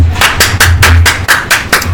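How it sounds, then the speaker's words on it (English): A series of about eight sharp, loud hand claps in steady rhythm, close up and alone, given as a congratulatory clap. "That was a congratulatory clap."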